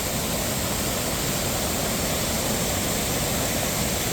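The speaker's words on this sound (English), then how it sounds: "Really, really cool waterfall." Rushing waterfall on an Adirondacks trail, a steady broadband roar of falling water that fills the whole stretch at an even, close level with no voices.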